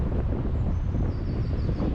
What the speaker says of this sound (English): You'll have to bear with me, it's a bit windy